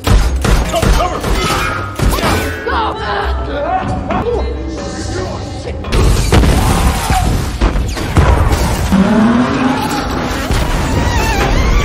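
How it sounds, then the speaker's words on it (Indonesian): Heavy booming bomb blasts and crashing debris, loud and layered, with rumbling aftermath and some indistinct voices mixed in. "lagu tersebut adalah sebuah pemicu dan meledakkan bom yang sudah disiapkan Jorge jauh-jauh hari di banyak titik"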